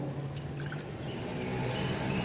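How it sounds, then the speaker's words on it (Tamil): Soaked bread slices dipped in water and pressed by hand, water dripping and trickling out in a short steady wet patter, close and fairly quiet with no talking. "இதை வந்து தண்ணியில் லைட்டாக டிப் பண்ணி எடுத்துகிட்டு தண்ணியை நல்லா புழிஞ்சிடணும்."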